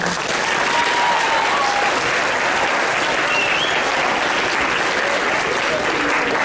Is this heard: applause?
yes